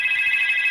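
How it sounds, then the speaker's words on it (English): A telephone rings with a steady, bright electronic trill that holds without a break for just under a second, loud and close. "Ooh, phone's ringing."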